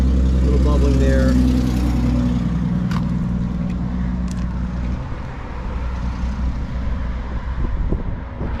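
A 1968 Ford Mustang's engine idles nearby, a low steady rumble that fades slightly after the first few seconds while a person talks over it.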